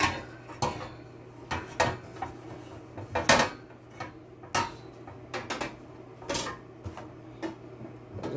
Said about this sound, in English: Now I'm gonna get my rock and just put it in the bottom of my pan.